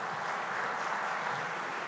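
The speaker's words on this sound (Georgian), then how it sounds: "ყალბი აპლოდისმენტები" Short burst of dense, steady applause from a studio audience on a political comedy talk show, a continuous wash of many hands clapping at moderate volume with no pauses.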